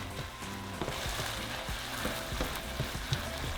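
Ground meat with onion and jalapeño frying in a pan for picadillo, a steady close sizzle with faint scrapes and stirring clicks throughout, no talking.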